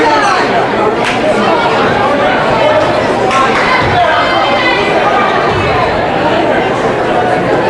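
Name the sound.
crowd at a girls' basketball game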